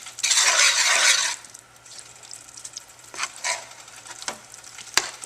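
A flour-and-fat roux for seafood gumbo is stirred in a pot over a gas flame, giving a loud, close sizzling scrape at first, then quieter scattered scrapes and clinks of the spoon against the pot.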